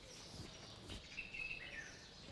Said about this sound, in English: Oh, the birds are coming through in a big way.